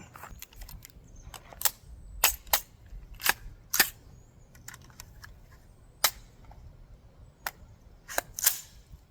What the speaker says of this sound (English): Let's switch over to the subsonics, see how that sounds. Run 5 through it.